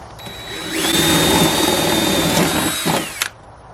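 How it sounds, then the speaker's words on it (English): A power drill with a 5/16 spade bit bores pilot holes, whining loudly and steadily for about two seconds, its pitch sagging slightly before it stops with a clunk. "I'm putting in a 5/16 spade bit to make my pilot holes."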